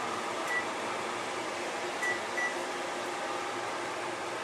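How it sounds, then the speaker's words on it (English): An electric fan runs in a home kitchen, giving a steady, even whoosh of moving air with a few faint beeps over it. "My fan."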